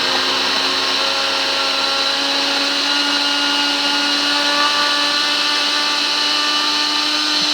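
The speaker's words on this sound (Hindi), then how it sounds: "अब हमने अपने सारे मटेरियल जो है ना ब्लेंडर जार में डाल दिए और जो मिल्क थे वो भी हमने साथ में ऐड कर दिया है।" An electric blender whirs steadily as it blends recipe ingredients with milk in its jar, a loud, constant motor drone holding one pitch throughout with no talking.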